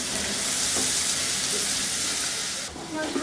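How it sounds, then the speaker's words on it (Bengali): Onion and chopped carrot fry in a pan for a Turkish chicken soup, producing a continuous close sizzle with stirring, dipping briefly near the end before carrying on. "গাজরটা একটু সেদ্ধ হতে সময় লাগবে সেই জন্য আগে এর সাথে একটু ভেজে নিতে হবে"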